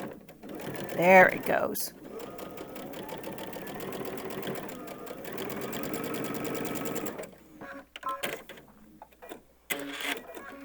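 Sewing machine with a 1/4 inch foot stitching down a fabric organizer pad, a steady whirring run of several seconds, followed by brief stops and short bursts, with a voice speaking near the start.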